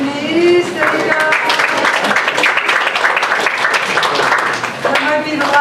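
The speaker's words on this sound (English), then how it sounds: "That might be the last round of applause" An audience applauds at a Queens borough community board meeting, welcoming a new board chair. The clapping is dense and steady, rising fast and holding loud for several seconds before easing off, with a few voices mixed in.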